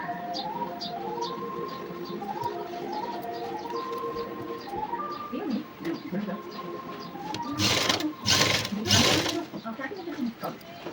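A home sewing machine stitches a work jacket in quick rattling bursts, close and mechanical, then a louder broadband clatter near the end, with someone talking over parts of it.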